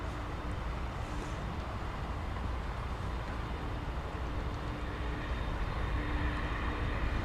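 A Boeing Dreamliner jet at DFW Airport at night gives off a steady, distant low roar of engine noise, broad and unbroken throughout with no clear peaks.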